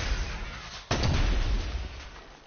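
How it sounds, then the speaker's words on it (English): A drum gun fires in a video game, a loud burst of gunfire cutting in sharply and rattling on steadily, heard alone without talk. "Drum gun"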